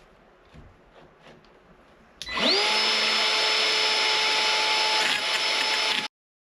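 An aluminum hydrofoil fuselage is slowly milled with plenty of oil to remove the last bits of material, a loud high-pitched power-tool whine that starts suddenly after faint background noise, holds steady for about four seconds, then cuts off.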